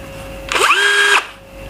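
A HUJIA cordless drill spins up with a rising whine, runs steadily at speed close to the microphone, then stops, leaving a quiet background hum.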